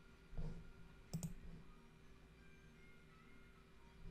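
A few soft, quick mouse clicks sound close by in a quiet room, two of them in a fast pair, over faint background hum.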